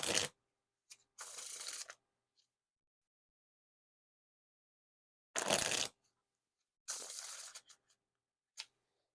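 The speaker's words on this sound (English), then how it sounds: "Now time for the riffle shuffle or bridge shuffle." Desert Tan King Slayer playing cards by Ellusionist riffle shuffled in two quick fluttering bursts, each followed by a short cascade as they bridge together. Quiet pauses in between.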